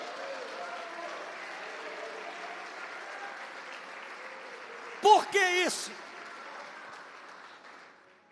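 A church congregation claps through a worship service in a continuous, diffuse wash of applause, and a voice cuts in briefly near the end as the clapping fades.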